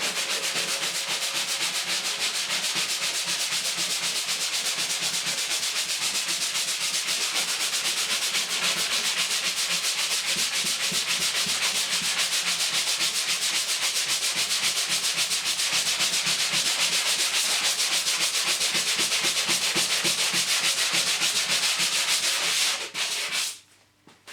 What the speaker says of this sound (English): Now the filler is dried, we just need to give that a light sanding. To do that, I'm going to use a sanding block like so.